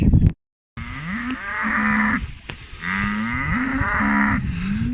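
Several loud, drawn-out cow moos close by on an outdoor calving farm, one after another with short pauses, over a noisy outdoor background.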